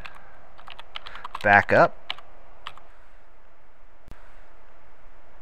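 A few sparse, crisp key clicks as a folder name is typed on a computer keyboard, close and quiet, with a single brief spoken word in the middle.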